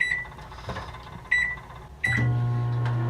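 A microwave oven heating chimichangas gives a few short electronic beeps, then its low, steady running hum starts and continues to the end.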